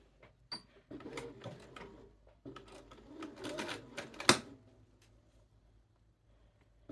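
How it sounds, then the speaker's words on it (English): A home sewing machine stitching shoulder seams together runs in short, quiet bursts of fast mechanical clatter with pauses between them, then fades to near silence near the end. "you're just going to sew those shoulder seams together like it's really any shoulder seams you ever sewed"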